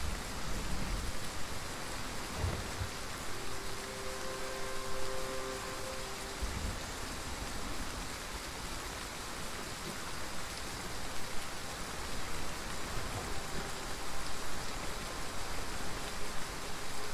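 Steady rain falls in the open-world survival crafting game The Front, a constant dense hiss of drops with a few faint tonal sounds and soft thuds underneath.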